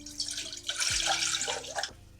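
About two cups of water for cooking instant ramen pour into a container, a splashing, trickling stream lasting roughly a second and a half, with a soft knock partway through and no voices.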